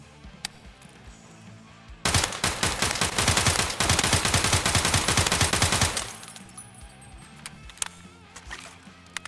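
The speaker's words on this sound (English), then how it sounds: "Next, we're gonna have full auto controlled sprays." Video game gunfire as full-auto controlled sprays: a dense, rapid burst of loud automatic shots lasting about four seconds, preceded and followed by a few scattered single clicks and quiet pauses.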